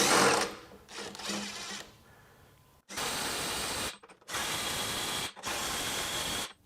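A Ryobi HP impact driver backs off bolts in three loud, rattling hammering bursts, each about a second long, separated by brief silences and preceded by quieter mechanical noise.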